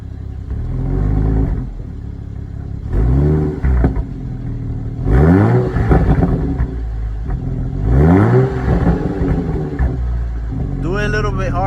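A Toyota Supra engine in sport mode with its exhaust valve open revs in several loud rising bursts, each sweep climbing and falling back to a burbling idle, with talk heard between the revs.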